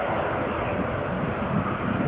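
British Airways airliner coming in to land at Newcastle International Airport during a storm, a steady broadband engine roar with wind, continuous and fairly loud throughout, with speech-like sound mixed in.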